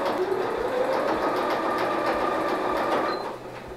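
Sewing machine stitching a folded hem on a fabric gift wrap, running steadily and close for about three seconds before the motor winds down and stops.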